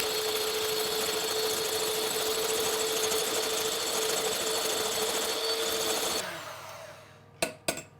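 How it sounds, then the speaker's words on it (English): An electric whisk beats egg whites toward soft peaks with a steady, close whirring drone for about six seconds, then cuts out, followed by a couple of sharp clicks. "Now we're going to whisk the egg whites until there is soft peaks."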